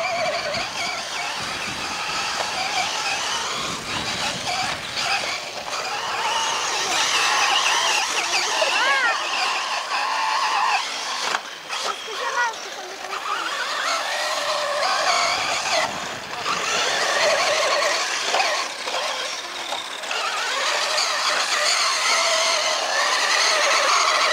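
Radio-controlled cars race around an outdoor track at a club meet, their high whining motors rising and falling continuously with repeated tire squeals and skids as they corner, people talking faintly nearby.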